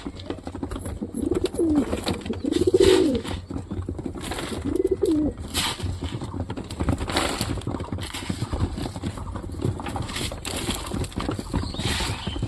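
Mookee pigeons coo in a new coop, several low rolling coos clustered over the first few seconds, followed by a steady background of rustling and faint ambient noise.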